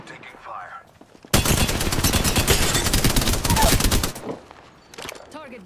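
Sustained rapid automatic gunfire in Apex Legends, a dense loud burst lasting about three seconds with quieter game sounds before and after.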